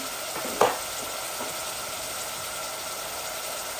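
Garlic sizzling in hot oil in a pan while cooking a pangas fish curry gives off a steady close frying hiss, with a brief clatter as the garlic goes in near the start.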